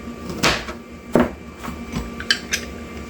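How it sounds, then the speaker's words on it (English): A knife cuts the ends off a lemon and slices down its sides on a cutting board, giving a few soft, separate chopping thuds and scrapes up close. "Cut my ends off. Make some slices down the side of it."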